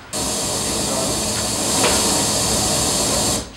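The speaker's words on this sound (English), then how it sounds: "It's just random frequencies, white noise." Steady broadband hiss of white noise from a homemade modular analog synthesizer module, starting abruptly, holding level for about three seconds with a slight swell, then cutting off cleanly, with no talking.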